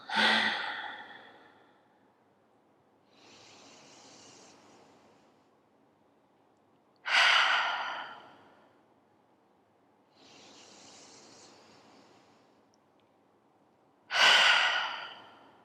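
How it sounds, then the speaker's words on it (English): Deep, slow yoga breathing: three loud breathy exhales, each followed by a softer, longer inhale, in an even rhythm of about seven seconds per cycle, close to the microphone with no talk. "Let's take 3 breaths together. Inhale. Exhale."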